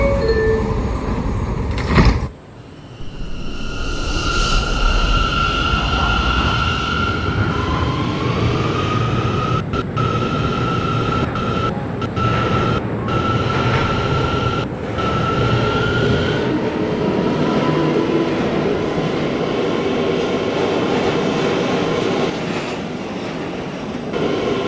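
An R179 C local subway train on a Brooklyn-bound run closes its doors and pulls out, a sharp door thud followed by rising motor whine and rolling clatter that fills the car loudly.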